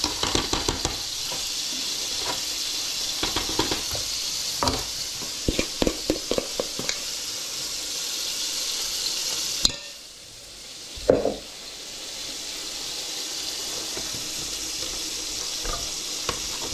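Egg dumplings (tojásos nokedli) frying in a pan, sizzling steadily while a utensil scrapes and stirs in a run of quick close strokes. A brief lull comes before the sizzle resumes.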